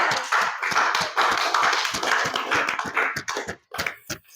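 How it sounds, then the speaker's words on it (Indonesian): A classroom of students claps together in a rhythmic burst of sharp, close hand strikes, then the claps thin out into a few scattered ones. "Beri tepuk tangan yang meriah."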